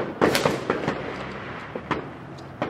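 A toy firecracker goes off in a series of sharp pops and crackles, the loudest bursts near the start and smaller scattered snaps afterward, close by and with no talk over it.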